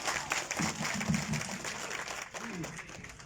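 Rally audience applauding a politician's introduction at an outdoor gathering: a brief burst of clapping rises and then fades over a few seconds, moderately distant, with crowd noise and voices mixed in.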